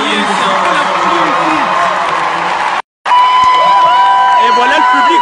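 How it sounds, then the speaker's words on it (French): A live studio audience roars and cheers loudly and continuously, with whoops and shouts over the noise. The sound cuts out briefly to silence midway, then resumes just as loud. "Voilà, vous voyez, c'est un peu la foule."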